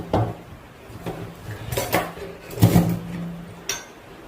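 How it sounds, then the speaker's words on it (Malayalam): Metal grill vessels that come with a microwave oven are handled close up, with about five separate clanks and clinks of metal on metal spread unevenly over a few seconds, against a quiet background. "ഗ്രില്ല് ചെയ്യാൻ നേരത്ത് ഇതുപോലെ ഈ മെറ്റലിൻ്റെ ഇതിൻ്റെ കൂടെ കിട്ടുന്ന പാത്രം മാത്രമാണ് വെക്കാൻ പറ്റുള്ളൂ"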